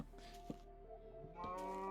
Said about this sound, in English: Get out of my way, cow.